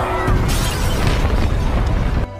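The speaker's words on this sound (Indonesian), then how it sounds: "Tak lama kemudian, museum itu pun langsung meledak." A museum explodes in The Last of Us series. A heavy, loud boom erupts and rolls on as a sustained rumbling blast with crackling debris, then cuts off abruptly near the end.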